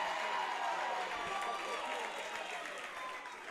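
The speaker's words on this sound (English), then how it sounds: "Getting a lot of noise from the crowd here" Crowd noise at a high school state championship baseball game at Jack Brown Stadium in North Dakota: a steady, broad murmur of cheering and applause holding at an even level throughout, fairly distant and diffuse, with no clear speech.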